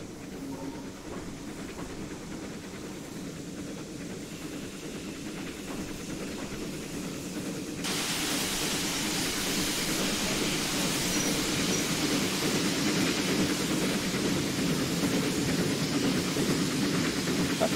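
A Bulleid Light Pacific steam locomotive in Train Simulator 2021 rumbles steadily with rail noise and a faint clickety-clack, growing louder and brighter about halfway through and staying constant to the end.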